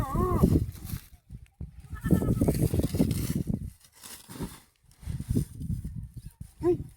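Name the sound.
goat bleating inside a sack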